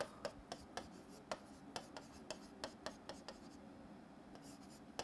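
Marker or chalk writing on a board during a chemistry lesson, a quiet series of short scratchy strokes and taps spaced irregularly over a soft hum, with no voice.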